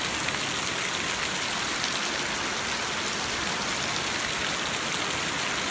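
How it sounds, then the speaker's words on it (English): Heavy rain pours down outdoors near a house with gutters and a road, a dense, unbroken hiss of water that stays loud and constant throughout with no talking. "Look how hard it's raining."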